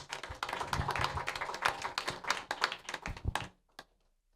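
Audience applause for a professional videographer at a venture capital panel on energy innovation, a dense burst of claps that runs about three seconds, then thins to a few scattered claps and fades to near silence.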